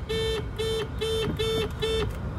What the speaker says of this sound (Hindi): 2 हॉर्न में से शायद 1 बंद हो गया है, तो अचानक से ही बजते बजते ही बंद हो गया।